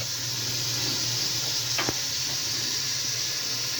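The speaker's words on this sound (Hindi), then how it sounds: "उसी तेल में गोश्त जो है ना फ्राई हो रहा है, प्याज के तेल में।" Meat frying in onion-flavoured oil for chicken biryani, a steady loud sizzle and hiss with a brief sharp crackle partway through.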